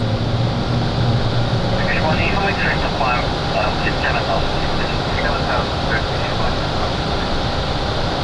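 Steady loud roar of Boeing 737 airliner engines during climb-out on a windy day, a constant broadband rumble heard from the cockpit, with faint radio or cockpit voices underneath.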